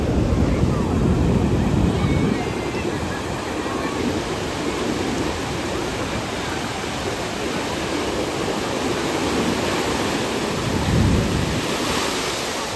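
Ocean surf at Puri beach rolls as a loud, continuous wash of roaring waves, with a heavier surge near the start and another toward the end, and no clear speech over it.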